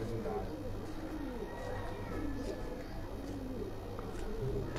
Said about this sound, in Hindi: जी कमगर कबूतर है जी